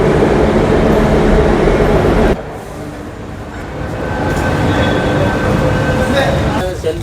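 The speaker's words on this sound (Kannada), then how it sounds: "finally boarded into metro" Metro train ride, a loud continuous rumble inside the car that drops abruptly partway through and then builds again into a steady hum.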